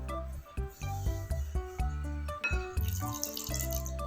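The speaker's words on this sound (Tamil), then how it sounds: "இதில் வந்து நம்ம தண்ணி கொஞ்சம் கொஞ்சமாக ஊற்றி" Water poured steadily into a bowl of flour for dough, a gurgling trickle with soft splashes and faint clinks, close by and without speech.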